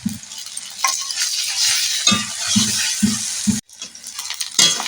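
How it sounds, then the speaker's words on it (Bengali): Onion and garlic paste frying in a pan for a dried fish curry, a steady hiss of sizzling broken by a spoon scraping and clinking against the metal in a quick series of strokes. "পেঁয়াজ রসুন ভাজা হয়ে গেছে"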